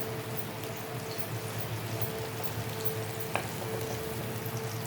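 Spice paste frying in oil for Bengali doi chingri, a soft, steady sizzle that holds at low level throughout with one faint clink partway through.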